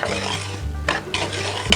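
Piaya dough ingredients, sugar among them, mixed in a bowl: a steady scraping, stirring churn with utensil-on-bowl clinks and a sharper knock near the end, close and fairly loud, no voices.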